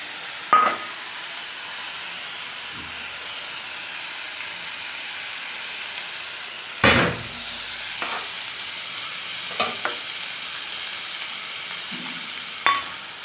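Cumin paste sizzles in a pan of Bengali chicken and potato curry: a steady, close frying hiss broken by a few sharp clinks and scrapes of stirring.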